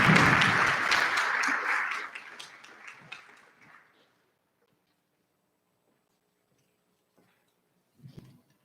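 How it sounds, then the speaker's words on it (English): Warm applause from a high school awards night audience, full for about two seconds and then thinning to scattered claps and silence, with a brief stir of sound near the end. "Let's give them all a round of applause."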